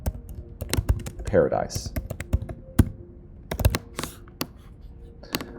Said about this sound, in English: I'm going to type out the word Island